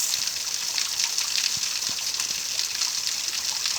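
Water rushes steadily beside a waterfall in a damp outdoor spot near a campfire, a dense continuous hiss close by with no pauses.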